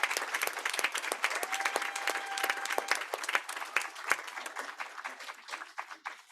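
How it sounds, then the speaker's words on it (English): A modest meeting audience claps for school paraeducators, with sharp individual claps close to the microphone forming an uneven round that gradually tapers off, and a brief cheer rising in the middle. "Give them another big round of applause"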